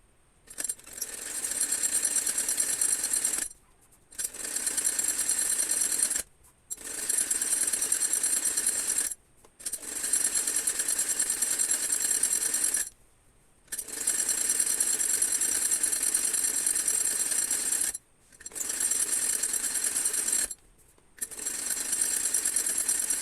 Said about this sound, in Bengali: এখানে আমি একটা সেলাই দিব এখন